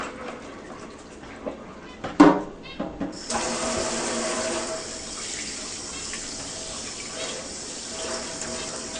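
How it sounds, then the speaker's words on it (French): Tap water running into a sink to rinse salted sturgeon meat after it sat overnight in salt, a few knocks and splashes first, then a steady close gush of water filling the rest. "Fait qu'on vide l'eau, on rince à l'eau."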